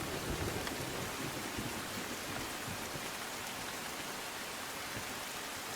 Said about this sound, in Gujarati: પહેલો જ વરસાદ છે હજુ પ્રારંભિક વરસાદ છે